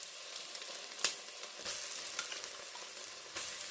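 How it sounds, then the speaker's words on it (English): Tomato paste fries in a pot with a steady close sizzle while a spoon stirs it, giving a few sharp scrapes and clicks against the pot. "Give that a quick stir."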